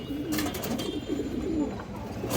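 A male pigeon coos repeatedly in a low, rolling rhythm, fairly close and steady against a busy, noisy background.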